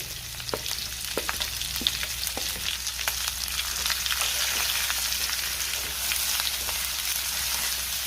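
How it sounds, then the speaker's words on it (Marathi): Spice masala fries with eggplant in a pan for a Marathi khara vanga dish, a continuous close sizzle with occasional scraping stirs and light crackles, steady throughout. "आता आपल्याला हा जो मसाला शिल्लक राहिलाय तोही मसाला परतून घ्यायचा आहे वांग्यासोबत"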